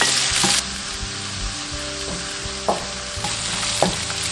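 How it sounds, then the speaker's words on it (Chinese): Shrimp sizzling in hot oil in a wok with scallion and ginger, with a steady frying hiss and repeated scraping and clanking as a spatula stirs the pan. "炒香后下入虾仁"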